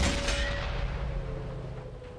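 Tank cannon fire from a Type 59 King Dragon 90mm in World of Tanks on console, heavy booming gunfire rolling into a loud, sustained rumble that slowly fades.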